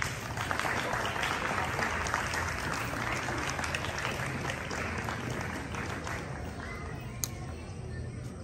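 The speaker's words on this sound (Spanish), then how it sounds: "Agradecemos a los presentes un caluroso aplauso a todos los soldados" Sustained applause from an audience at a school graduation ceremony, a dense steady wash of many hands clapping at even loudness throughout, with faint voices mixed in.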